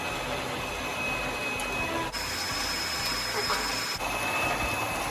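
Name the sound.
whisking fairy cake batter, likely with an electric mixer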